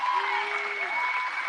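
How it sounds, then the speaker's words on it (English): A crowd applauds at a Trump speech, dense steady clapping heard from a distance through the whole span, with a voice talking over it. "And you hear these morons clapping?"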